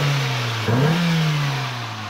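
A running Toyota Starlet twin-cam engine idles steadily, lifts in one short rev, then eases back to a smooth idle, close and alone.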